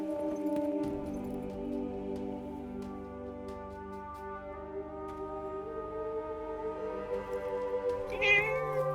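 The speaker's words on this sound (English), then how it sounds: "Hey, that cat." A cat in the Forspoken video game gives a long, drawn-out meow with a wavering tone, close and fairly clear over a quiet background, ending with a brief higher squeak.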